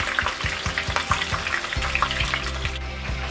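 Chicken frying in a hot pan while preparing pollo almendrado, a steady close sizzle with rhythmic stirring or scraping strokes throughout, no voices.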